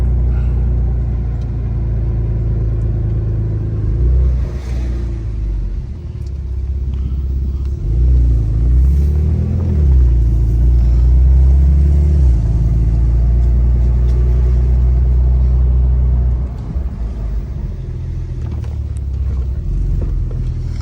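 A Porsche 991.2 Turbo S idles while warming up in a driveway, a steady low rumble with a slight rise in revs near the middle, running alone without talk.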